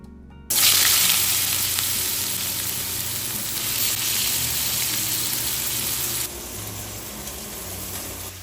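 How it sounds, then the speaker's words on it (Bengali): Potatoes and bitter gourd frying in hot oil in a wok, a loud, steady close-up sizzle that begins abruptly and continues, dropping a little in level near the end, with no talking. "কড়াতে তেল গরম হয়ে গেছে প্রথমে আলু উচ্ছেটাই ভেজে নেব"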